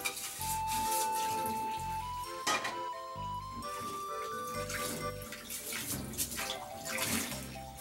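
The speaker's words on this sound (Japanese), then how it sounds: "しらせちゃん、手洗うついでそのフライパンも洗おうか" Tap water runs steadily and splashes while hands and a frying pan are washed at a kitchen sink, close up, with clinks and scrubbing and background music.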